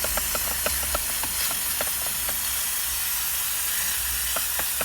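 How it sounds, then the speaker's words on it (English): Steam cleaner hissing steadily while working on dark plastic interior trim of a heavily soiled car, a continuous airy spray with a low hum underneath and faint scattered ticks, no talking. "the steamer head 6 inches plus away from the surface, especially dark plastic trim"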